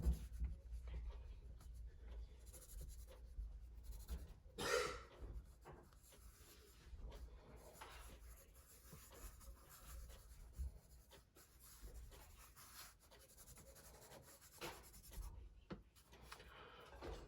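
Soft pencil strokes on paper, Blackwing pencils scratching and rubbing quietly in short irregular passes, faint and close, with a brief louder rustle partway through.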